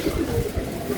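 Blue bar pigeons give soft low coos, brief and muffled against background noise.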